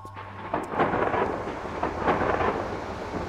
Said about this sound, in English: Why is that thunder and lightning?